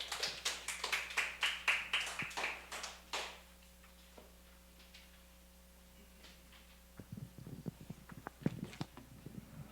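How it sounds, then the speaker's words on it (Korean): A church audience welcoming a pastor claps in a fast, even rhythm for about three seconds, faint and a little distant. It then fades to near quiet with a few scattered taps and claps. "나오실 때 큰 박수 부탁드리겠습니다."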